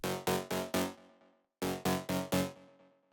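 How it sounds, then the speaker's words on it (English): A gritty electro lead from the Serum synth's Lead Surround preset for tech house, playing alone: a bright buzzy stab pattern of four rapid notes, a short pause, then four more, each hit decaying quickly. "It's called lead surround, and it sounds like this on its own."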